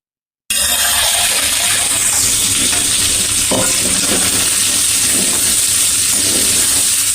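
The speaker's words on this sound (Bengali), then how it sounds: "দেখো সবজিটা ভাজা ভাজা হয়ে গেল" Vegetables frying in a pan for an Ekadashi vegetable dish, a loud continuous sizzle and hiss that starts abruptly, with scraping stirring strokes mixed in, close up.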